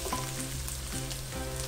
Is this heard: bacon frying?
yes